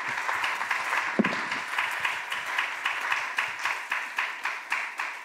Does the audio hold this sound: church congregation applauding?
yes